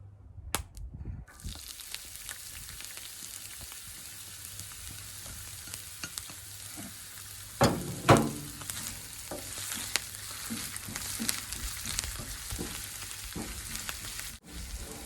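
Ginger frying in hot oil in a frying pan: after a few clicks the sizzle rises into a steady hiss, with a sharp spatula scrape near the middle and occasional taps throughout.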